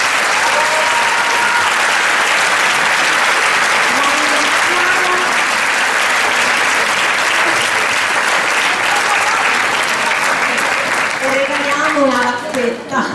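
A large audience applauds loudly and continuously at a women's music concert, a thick unbroken wash of clapping with scattered voices and a few singing tones rising through it near the end.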